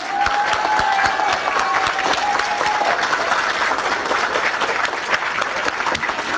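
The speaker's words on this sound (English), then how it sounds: "Could we please give her a hand of applause for Helena, please?" Steady applause from a crowd, dense clapping filling the room throughout, with a faint voice briefly audible early on.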